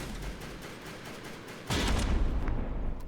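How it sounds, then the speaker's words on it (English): A cannon shot strikes a boat in a PT patrol naval video game, a sudden loud blast that bursts into a sustained crackling roar of impact and debris after a stretch of rumbling background noise. "Another cram shot, and more damage to Doomagent's side."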